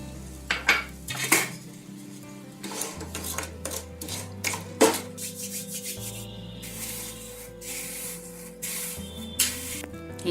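Two pieces of jaggery (gur) are dropped into a heated pan holding half a bowl of water while making tilkut, giving metallic clatters and scraping against the pan, close and fairly quiet with no talk.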